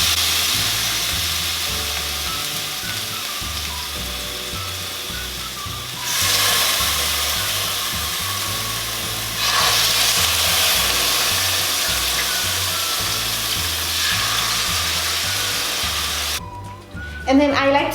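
Chicken pieces sizzle steadily in a hot pan with a constant hiss, and the frying gets louder at two points as more pieces go in. Music plays underneath throughout.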